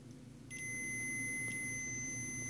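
A steady, high electronic beep from a multimeter continuity test on coax cable starts after a brief pause and holds continuously to the end over a low background hum.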